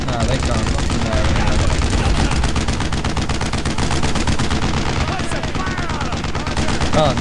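Sustained machine gun fire in the Brothers in Arms: Road to Hill 30 video game, rapid continuous bursts of loud rattling shots layered with other gunfire, steady and dense for the whole stretch.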